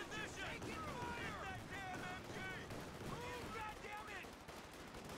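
Machine gun fire rattles through a Company of Heroes 2 battle, dense bursts of gunshots running continuously at steady loudness while players talk over the chaotic combat.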